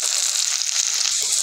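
Cumin frying in hot oil in a wok, a steady close sizzle and crackle that holds evenly throughout with no talk over it.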